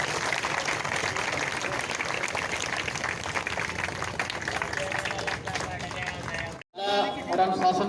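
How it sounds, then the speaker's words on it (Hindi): Crowd applause at a Dera Sacha Sauda stage event, continuous loud clapping with background babble, briefly cutting out near the end before noisy activity resumes. "तो उनके लिए भी जोरदार तालियां ली।"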